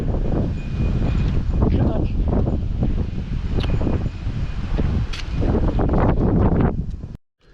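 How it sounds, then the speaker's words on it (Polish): Strong gusty wind in intermittent rain buffets the microphone with a loud, low roar that swells and dips, with rustling outdoors. "Mocny wiatr i co chwila też pada."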